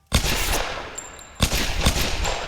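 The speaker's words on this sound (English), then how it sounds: "I'm taking fire." Gunfire in the Tomb Raider video game, two loud bursts of rapid automatic shots each trailing off into a short echoing tail, with no talking.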